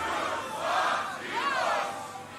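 A crowd at a beatbox battle shouts a countdown in unison, two loud collective yells rising and fading one after the other amid cheering.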